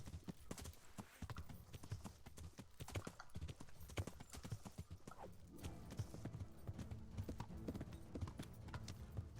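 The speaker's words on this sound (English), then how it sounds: "Oh, first person horse riding." A horse gallops in first person in the medieval game Kingdom Come: Deliverance, its hooves pounding a fast, continuous clip-clop rhythm, loud and close for the whole stretch, with no talk over it.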